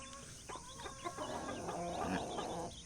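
Chickens cluck in short repeated bursts close by, with a steady background hum throughout.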